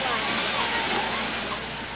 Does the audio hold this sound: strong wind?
yes